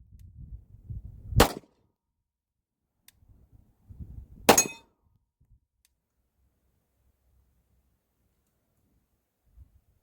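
A Glock 17 Gen 5 pistol fires two well-spaced shots at a steel target. Each sharp crack rings off the steel, followed by faint rattles and then quiet.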